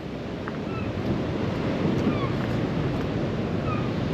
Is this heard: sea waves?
yes